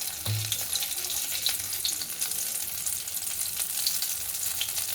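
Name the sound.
dough frying in ghee for mihidana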